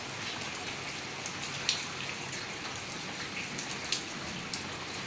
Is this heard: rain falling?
yes